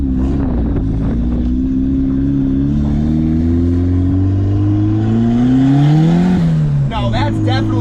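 A modified Mazda Miata engine revs up steadily, its loud drone climbing in pitch before dropping back to idle. A voice can be heard briefly near the end.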